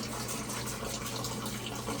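Water runs from a hose hooked to a domestic water drain into a Burnham Alpine ALP150W boiler being filled for cleaning, a steady close gushing rush without voices.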